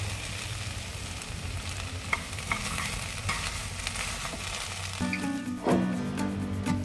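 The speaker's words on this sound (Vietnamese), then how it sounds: "Mình đảo lên khoảng vài chục giây nữa là được nha." Vegetarian noodles with vegetables, cabbage and tofu are stir-fried in a pan, with a steady close sizzle broken by scraping stirs and a few louder clatters, and no voices.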